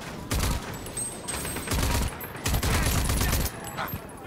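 Gunfire in the shooter game Rage 2 comes as loud, dense bursts of rapid shots and booms with a short pause between them, while a player talks over the action.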